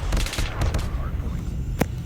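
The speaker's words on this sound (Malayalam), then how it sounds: "അയ്യോ, എന്നെ വെടി വെച്ചിടുന്നേ" Gunfire in the Call of Duty game on the Khandor Hideout map: rapid bursts of shots crackle in quick clusters, with a sharp louder report near the end, under a busy background with a voice present.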